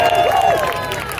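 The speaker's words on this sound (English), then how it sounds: "Let's have a round of applause for Jacob." A crowd at the SLKSTN Unlocked event at Thorpe Park claps and cheers for Jacob, a loud, dense burst of applause with whoops and voices mixed in, easing slightly toward the end.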